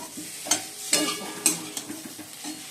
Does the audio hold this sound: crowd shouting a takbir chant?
no